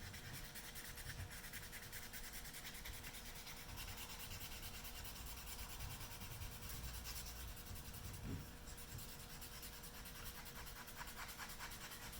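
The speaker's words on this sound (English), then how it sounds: "Hear the difference in the tone of the sandpaper as it makes contact with areas that need more" Sandpaper rubbing across a wooden gun stock, working across the grain in a steady back-and-forth scratching that runs continuously at low level, close and alone, with one slightly harder stroke partway through.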